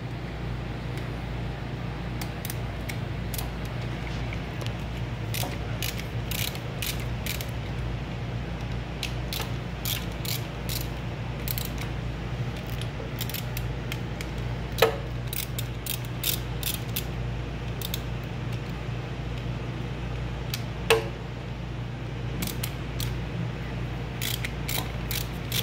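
A ratchet wrench loosens the valve cover bolts on a 2015 Suzuki V-Strom 1000 motorcycle, its rapid close clicking running in repeated runs over a steady low background hum, with a couple of sharper knocks.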